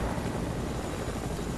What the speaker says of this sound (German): lande erstmal mit dem Helikopter